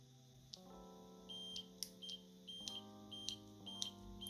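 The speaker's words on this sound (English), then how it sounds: "every time we get a beep" Short, high electronic beeps sound while switches are replaced on a non-hot-swappable mechanical keyboard, several chirps repeating at irregular intervals, faint and close over a steady low hum, with no talk.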